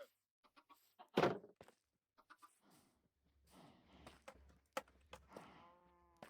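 Chickens clucking in the Minecraft video game, short scattered bursts and one louder squawk, fairly quiet overall with gaps of near silence between the calls.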